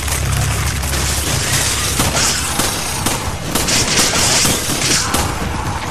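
Loud, dense bursts of gunfire and booming explosions from the video game Resident Evil 5 crackle continuously, with rapid shots layered over a heavy rumble.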